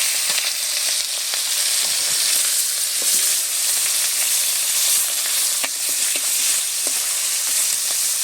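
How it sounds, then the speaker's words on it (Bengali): Bhola fish fry in a pan with a loud, dense, continuous sizzle and spattering crackle, punctuated by occasional light clicks as pieces are moved, no voices. "এই মাছগুলো ভাজা হয়ে গেছে তুলে নিচ্ছি"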